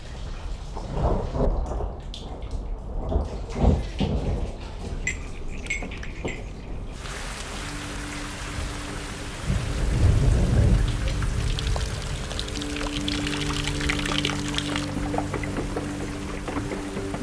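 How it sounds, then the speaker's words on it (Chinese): At a Republic-era courtyard house, heavy rain pours steadily while deep thunder rumbles, first in bursts and then in a long roll. Dense drips and splashes from the eaves come close and loud throughout. "首先下雨的时候呢，你可以看到雨水从那屋檐上慢慢的滴下来。"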